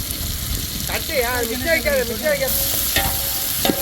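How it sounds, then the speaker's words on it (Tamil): Vadagam sizzles and crackles in hot oil as a tempering for fish curry, steady frying noise with stirring and clinks of a utensil, close up; a voice murmurs briefly over it. "குழம்பு வடகம் தான் போடணும் வடகம் தான் முக்கியமானது"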